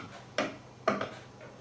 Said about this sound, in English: That snapping that you can hear at the moment is just the mesh getting stuck to the adhesive